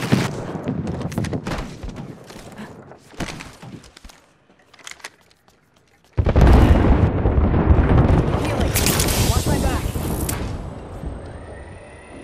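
Artillery strike explosions in Apex Legends, a dense, loud rumbling barrage of blasts that bursts in suddenly after sparse earlier booms and rolls on continuously to the end, with game voices heard over it.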